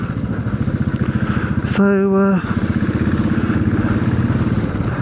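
A Royal Enfield Classic 500 single-cylinder motorcycle thumps along with a steady, even engine pulse, close and loud, briefly joined by a higher mechanical whine, while a rider says a word or two.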